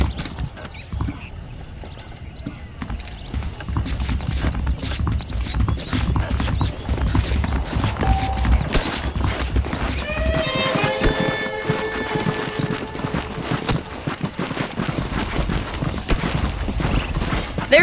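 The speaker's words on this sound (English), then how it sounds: "let's see if you can still ride a horse." A horse galloping in the video game Red Dead Redemption, with steady hoof clip-clops over a dense outdoor ambience and a short whinny partway through, all fairly loud and continuous.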